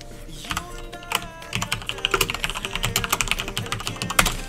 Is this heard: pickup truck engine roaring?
no